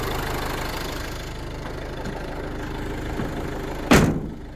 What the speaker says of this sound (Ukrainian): Мотор працює як годинник